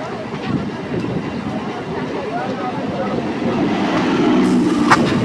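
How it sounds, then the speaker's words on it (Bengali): An EMU local train pulls into Konnagar station on the Howrah–Tarakeswar line, a loud, steady rolling rumble with wheel clatter and a brief high squeal near the end. "ট্রেন এখন প্রবেশ করেছে তার গন্তব্য স্টেশন কোন্নগর স্টেশন।"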